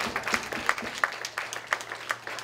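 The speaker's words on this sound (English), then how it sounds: "Give the Lord a clap offering." Members of a Sunday morning church congregation clap in thanks, a loose, fairly quiet patter of hand claps with a few sharper individual claps standing out, no voices clearly heard.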